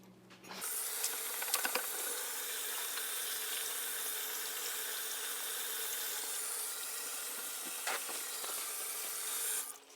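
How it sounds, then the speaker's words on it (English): A kitchen tap runs steadily while hands are washed before shaping beef burger patties, a close continuous hiss of flowing water that starts abruptly, with faint rubbing and splashing. "You need to start by washing your hands."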